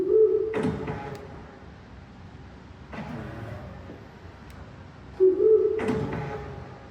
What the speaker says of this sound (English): If you lock the door at night, it sounds like an owl.